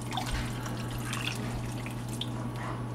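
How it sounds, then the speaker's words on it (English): Water pours into quartered cactus pieces for cooking, a steady close trickle and splash over a constant low kitchen hum, with no talking. "now I'm going to pour some water into the cactus."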